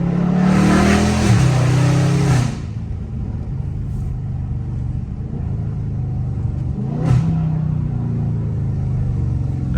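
A Scat Pack's engine roars loud and close, revving hard for about two seconds, then settling into a steady deep rumble, with a second short rev around seven seconds in.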